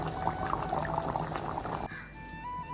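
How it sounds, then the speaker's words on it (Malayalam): Hot coconut-oil tempering with crackled mustard seeds is poured onto a stingray fish curry. A close, liquid pouring sizzle lasts almost two seconds, then stops abruptly and leaves a quieter, thin tail. "ഇത് താളിച്ച് ഒഴിക്കാനുള്ള പരിപാടിയാണ്"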